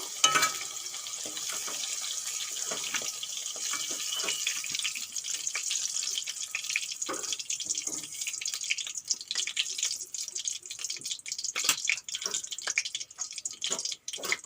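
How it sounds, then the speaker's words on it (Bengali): Okra (bhindi) fries lightly in hot oil, giving a steady, fairly loud sizzle with scattered crackles and pops that continue unbroken throughout, with no voices. "ভেন্ডিগুলো খুব হালকা করে ভেজে নিয়েছি এখন তুলে নেব"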